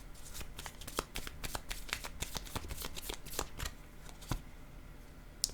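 Tarot cards are shuffled close up in a rapid, uneven run of crisp riffling clicks and slaps. No one talks.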